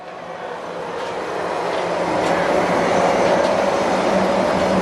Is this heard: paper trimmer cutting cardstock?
no